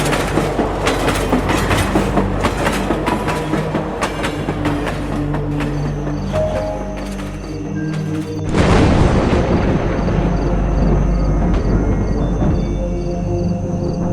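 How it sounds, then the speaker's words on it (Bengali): A train passes loudly on railway tracks with a heavy continuous rumble and rhythmic clickety-clack that swells into a louder roar partway through. "মুহূর্তের মধ্যে সেই ট্রেনের ধাক্কায় মাটিতে ছিটকে পড়ে নিমাইয়ের প্রাণহীন দেহ।"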